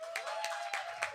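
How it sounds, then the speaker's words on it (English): An audience in a large London art lounge applauds during a spoken-word show, giving a brief wash of clapping with a few sharper claps standing out from the crowd. "Keep that applause going."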